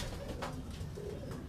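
A racing pigeon coos softly after landing, low murmuring pulses close by over a steady background hum.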